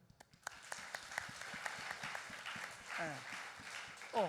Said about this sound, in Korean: 자, 우리 주홍태 박수.